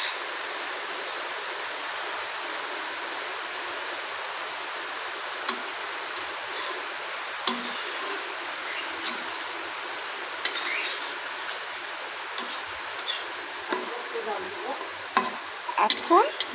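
Small fish coated in salt, turmeric and chilli powder go into a pan of ridge gourd and potato, giving soft sizzling and scraping stirs with scattered light clicks, steady and close throughout.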